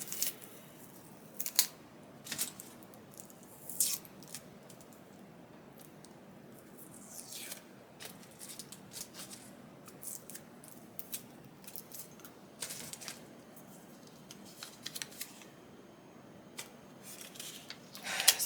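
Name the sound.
tape being peeled off sublimated shot glasses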